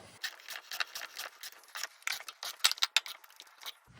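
Spherical bearing being pressed into a Toyota truck control arm in a shop, giving a run of quick ratcheting clicks and mechanical creaks, close and fairly quiet, with a few sharper metallic snaps near the end.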